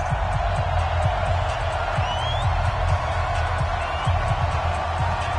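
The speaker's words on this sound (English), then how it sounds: "a moment ago they entered to the delight of this sold-out crowd" A sold-out stadium crowd roars during a Bills vs. Dolphins game in Madden 20, a steady wash of cheering with a voice talking over it and a few thuds and whistle-like sweeps on top.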